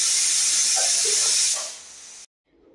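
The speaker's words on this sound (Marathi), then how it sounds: "या कुकरच्या 3 शिट्या आपण काढूया." A pressure cooker on a gas stove, cooking taro-leaf curry, lets off a loud, steady steam whistle that fades and then cuts off sharply into silence.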